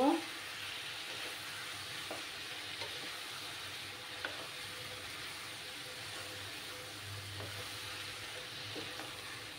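A Bengali fish curry with ridge gourd, potatoes and Kashmiri chili powder is stirred in a pan. A faint continuous sizzle carries soft, intermittent spoon knocks and scrapes, quiet and close.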